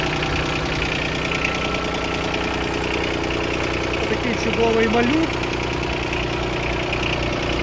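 A small diesel engine of a Yanmar F155 mini tractor idles steadily with a knocking rhythm the whole time, while someone speaks briefly over it.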